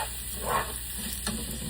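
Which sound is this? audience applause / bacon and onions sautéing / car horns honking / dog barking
bacon and onions sautéing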